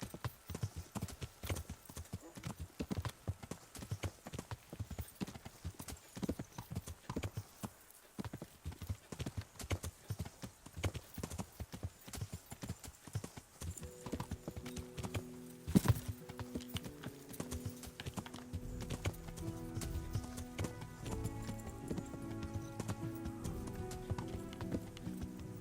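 Horse hooves clip-clopping steadily during riding in the video game Kingdom Come Deliverance, a quick, even rhythm of close, soft hoofbeats running throughout, joined later by sustained game music underneath.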